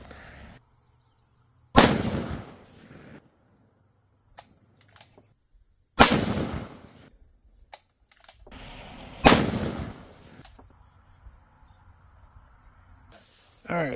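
Three loud, sharp rifle shots ring out a few seconds apart at an outdoor shooting range, each followed by a short decaying echo, with quiet gaps between them.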